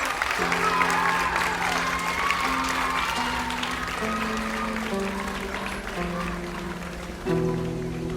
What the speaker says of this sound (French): On peut les applaudir une dernière fois très très très très fort.